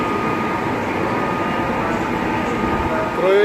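A train travelling from Croatia to Ljubljana, Slovenia gives a steady, loud, close rumble of wheels on rails that continues unbroken throughout.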